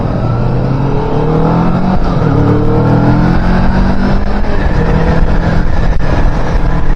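A 2023 Kawasaki Vulcan S motorcycle engine and exhaust running steadily with a slight bark, a continuous loud rumble that holds throughout with small shifts in pitch and no talking.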